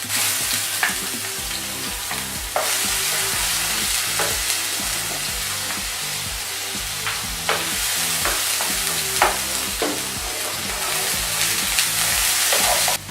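Garlic and ginger fry in a little oil with onions for a vegetable chop suey, a loud, steady sizzle close by with occasional stirring scrapes throughout.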